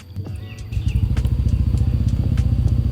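A Yamaha NMAX Turbo scooter engine cranks and catches, then settles into a steady, throbbing idle close by, with a few light clicks and taps over the running motor.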